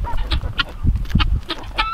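Farm poultry, including a rooster, turkey and guinea fowl, call close by during morning chores, with a rapid run of loud honking, clucking cries and crowing bursts overlapping one another.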